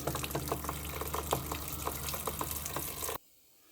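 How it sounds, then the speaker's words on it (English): Water gushes from an open outdoor hose bib being drained for winter, a steady splashing rush with rapid bubbly pulses that cuts off abruptly near the end. "Now with the hose bib running out front"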